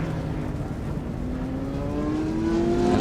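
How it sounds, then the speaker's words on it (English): A Ligier JS P3 sports prototype at a classic endurance race meeting drives on track. Its engine gives a steady, loud drone that rises slightly in pitch as it accelerates, heard without voices. "That's Ron Maiden and Craig Davis in a Ligier JSP3."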